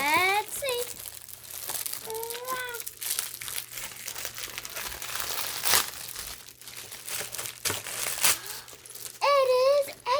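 Plastic wrapping crinkles and crackles as it is pulled off a child's dinosaur bag during an unboxing, with a child and an adult talking over the rustling throughout.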